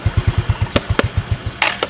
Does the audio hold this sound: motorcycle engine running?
yes